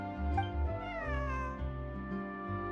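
A cat in the video game Genshin Impact lets out a drawn-out, wavering meow, close and clear, with a low steady hum beneath it and no speech.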